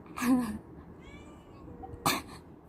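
A cat gives two short, sharp vocal bursts, one near the start and one near the end, close by, with quiet between them.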